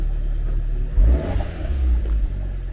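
A turbocharged car engine, from an Alfa Romeo MiTo or a high-mileage Volvo XC70, revs up and settles, a low rumbling roar that surges in the middle and then holds at a steady growl.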